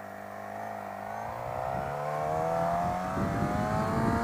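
Suzuki Gixxer motorcycle engine revving during a wheelie, a steady droning engine tone rising in pitch and growing louder over a few seconds, heard from nearby.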